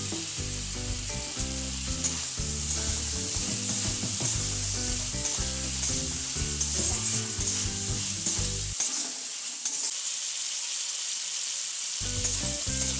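Fried potato pieces dropped into cooked-down spice paste for a potato, pea and paneer curry, a steady loud sizzle with scraping stirs near the pan, briefly dipping before the frying hiss returns.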